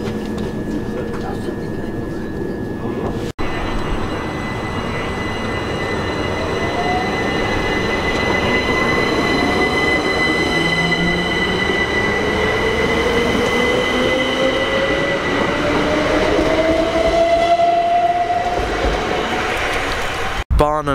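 A train rumbles steadily into Barnham station in West Sussex, wheels squealing with rising pitch as it slows, with faint announcement-like voices in the background.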